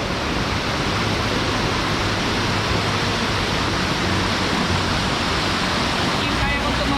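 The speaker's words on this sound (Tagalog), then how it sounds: "nandito na tayo sa falls" Binbin and Imugan Falls, a powerful waterfall roaring as loud, continuous broadband rushing water close by, with voices faintly under the noise.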